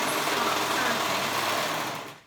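A serger stitches a child's romper with a steady, close, loud whirring run that winds down and stops at the end.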